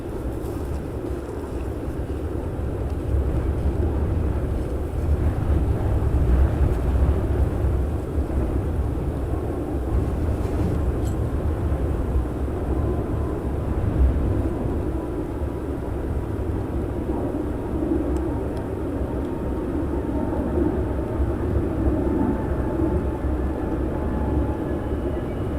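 A Malaysia Airlines cargo aircraft at Amsterdam Schiphol Airport gives a loud, sustained low engine roar with wind buffeting the microphone, heard from a distance across the airfield for the whole stretch.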